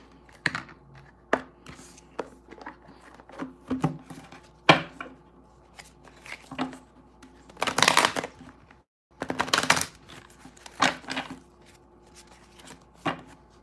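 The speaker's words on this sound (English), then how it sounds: "And I'm just shuffling these cards really good" Tarot cards are shuffled by hand, with scattered soft taps and clicks and two louder riffling bursts in the middle. No talking.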